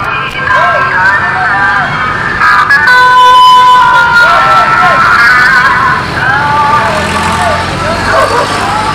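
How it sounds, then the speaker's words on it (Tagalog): A fire truck passes with its siren wailing in repeated rising and falling sweeps on a street in Mandaluyong, loud and close, with traffic noise and people talking throughout. "May dadaan ulit na bumbero dito ngayon."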